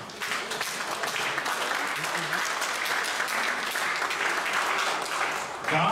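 Audience at an evening church service at a Bible college conference breaks into sustained, dense hand clapping that holds steady for several seconds, with voices faintly mixed in.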